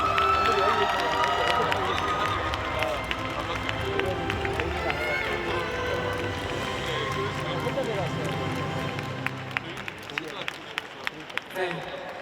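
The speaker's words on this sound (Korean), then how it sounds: "환영의 박수 부탁드리겠습니다" An audience at the Busan International Film Festival applauds the director and actors of 'Kyrie' as they come on stage, a sustained, fairly loud crowd clapping with voices mixed in, the claps turning sharper and more distinct toward the end.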